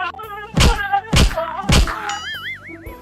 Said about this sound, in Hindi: इसको 5 कोड़े मारो